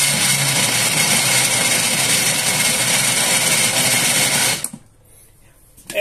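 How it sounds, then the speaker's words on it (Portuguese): Blender running steadily at high speed, blending a creamy rib-and-rice mixture, loud and continuous for about four and a half seconds before cutting off abruptly to near silence. "Aí nós vamos bater agora no liquidificador."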